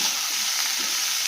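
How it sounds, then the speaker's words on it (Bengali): Carrots and potatoes fry in hot oil for flattened-rice pulao, giving a steady, close, unbroken sizzle with no voices over it. "এইবার গাজর আর আলু তেলে ভাজছি।"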